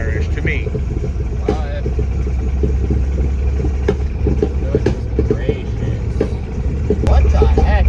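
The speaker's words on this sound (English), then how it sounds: "That sounds backfire-ish to me." A rough idling Ford Bronco engine rumbles throughout, broken by several sharp, irregular pops like backfires.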